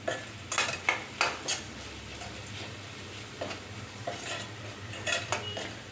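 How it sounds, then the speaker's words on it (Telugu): A spoon stirs pepper powder into a cooked radish leaf dish in a pot, making repeated scraping clinks in an uneven rhythm over a soft background sizzle. "మిరియాల పొడి ఒకసారి కలిపేద్దాము"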